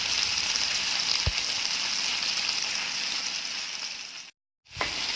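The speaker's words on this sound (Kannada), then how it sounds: "ಈಗ 1 ಕಪ್ ಆನಿಯನ್ನ ಹಾಕ್ಕೊಂಡು ಫ್ರೈ ಮಾಡೋಣ" Chopped onion frying in a pan for bisibelebath gives off a steady, soft sizzling hiss. A couple of faint clicks sound partway through, and the sizzle cuts out briefly before it resumes.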